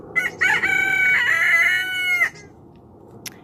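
A pet hen on a small homestead gives a loud, close call, a drawn-out harmonic squawk lasting about two seconds, followed by quiet and a brief faint chirp.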